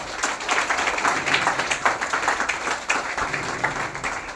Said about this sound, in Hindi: डीएक्सन का नाम से एक जबरदस्त ताली होनी चाहिए।